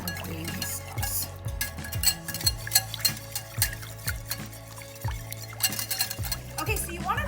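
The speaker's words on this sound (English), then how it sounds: "you want to whisk this super vigorously because the sorghum, what it wants to do is congeal" Mushroom gravy thickened with sorghum, whisked hard in a pan, gives a fast, steady run of rhythmic scraping and light metallic clinks, close and continuous, with no talking.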